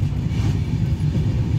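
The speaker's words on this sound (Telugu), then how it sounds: "ట్రైన్ గోదావరి నది మీదుగా బ్రిడ్జి మీద వెళ్తుంటే ఆ సౌండ్కి కూడా ఫ్యాన్స్ ఉంటారండి." A train crosses the Godavari river bridge near Kovvur, giving a steady, loud, close rumble with a dense low roar and no pauses.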